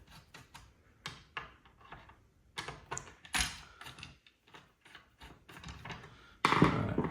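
Tension screws on the base of a circular saw fitted to a Kreg Accu-Cut track guide are loosened, giving close, irregular mechanical clicks, rattles and scraping handling noises that end in a louder burst of rustling.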